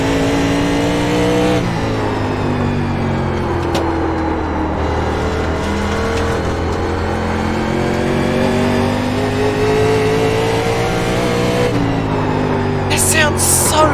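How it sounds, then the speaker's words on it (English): Race car engine in the iRacing sim game roaring steadily at high revs, loud and continuous, with gear shifts causing brief pitch drops and climbs, a voice talking faintly beneath. "The roar of the engine just right now."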